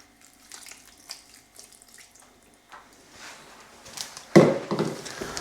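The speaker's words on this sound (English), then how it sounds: "I'm gonna add the juice now" Juice poured into seasoned pork and pineapple sausage meat in a bowl, heard as a sudden loud liquid splash and trickle near the end after quiet handling sounds, with no talking.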